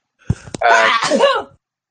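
A person sneezes once in a wet, high-pitched burst after a short intake of breath, close and loud, then silence.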